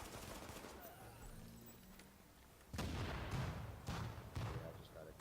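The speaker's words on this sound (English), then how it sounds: "I just got a clean, slow M60 with crap loads of recoil" An M60 machine gun fires in a video game in a loud, dense burst followed by a few shorter bursts, after a quieter stretch of background noise.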